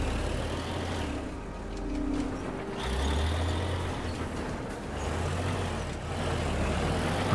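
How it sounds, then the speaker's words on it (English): A bulldozer driving in the video game Teardown: a steady, low diesel engine drone with rises in revs and rumbling, close and continuous throughout. "get it underneath this bulldozer and pin it against the wall and just drive over"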